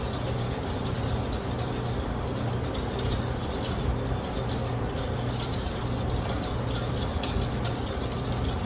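Butter being stirred through thick pastry cream for a pie filling, a steady, continuous scraping and swishing that runs evenly throughout at moderate level with no talk.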